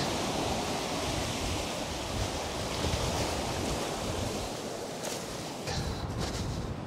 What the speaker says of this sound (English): Tide is absolutely ripping off the end of this headland.